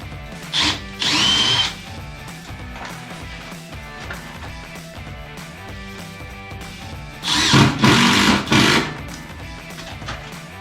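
Power drill driving a retaining screw into the top of a flyscreen, with a short burst of whirring early on and a longer run of whirring later, over a steady background hum.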